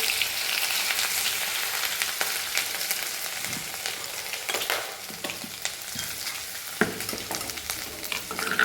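Ginger-garlic paste sautéing in a pan for rajma, a steady close sizzle with repeated scraping and stirring strokes and a few clinks of the spoon, with no one talking.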